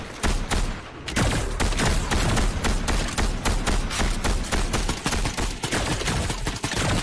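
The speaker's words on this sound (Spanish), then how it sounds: "Nos disparan, nos disparan." Rapid automatic gunfire aimed at the player in the video game Fortnite, with a relentless run of sharp, loud, closely spaced shots that barely pauses.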